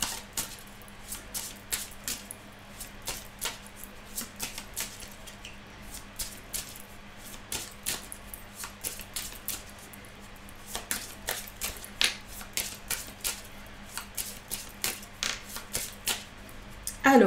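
Petit Lenormand cards are shuffled and laid out on a table, giving a long run of crisp, close taps and flicks in an uneven rhythm, some clustered in quick bursts, with no talking.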